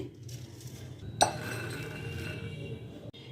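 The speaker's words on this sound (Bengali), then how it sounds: "এবারে একটা বোলের মধ্যে এই ডাল আমি নিয়ে নিচ্ছি" Chana dal lentils tipped into a bowl in a kitchen, a soft rattle with one bright clink of dish and utensil, quiet and close.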